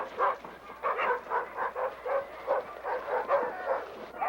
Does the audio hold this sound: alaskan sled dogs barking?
yes